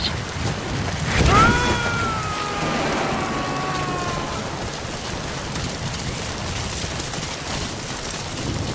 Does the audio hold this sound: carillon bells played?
no